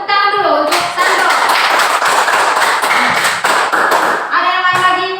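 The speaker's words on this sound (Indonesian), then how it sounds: "Tepuk tangan dulu untuk Sandro." Classroom audience in Indonesia claps hands together in a loud, dense burst, with voices and tonal sounds at the start and end.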